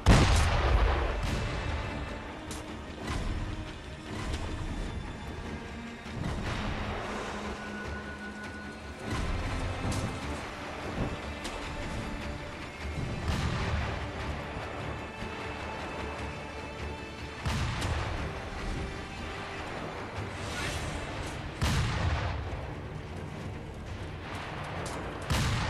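A boss opens fire in the game Sekiro: Shadows Die Twice, with repeated booming gunshots and impacts arriving in irregular volleys over a sustained stretch of combat, loud and close, with no one talking.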